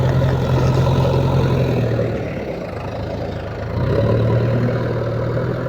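A tractor engine runs steadily on a village farm, giving a loud, continuous low rumble that dips slightly in the middle before returning to full strength, with no voices.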